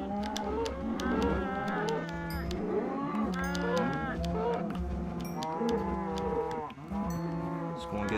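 Cows mooing on a farm in the Minecraft video game, several drawn-out low calls overlapping one after another over a steady background.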